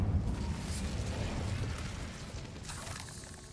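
An Incendio fire spell cast in the Hogwarts Legacy video game: a loud, rumbling, fiery burst that roars low and steady for a few seconds and then slowly fades, with no talking over it.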